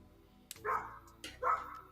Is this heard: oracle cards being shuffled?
no